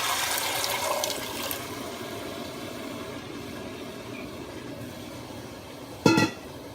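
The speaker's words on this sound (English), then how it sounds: "You can pour your tomato in." Tomato juice pours into a pan of garlic for homemade tomato sauce, a steady liquid rush and gentle sizzle that thins out, followed by a short clatter near the end.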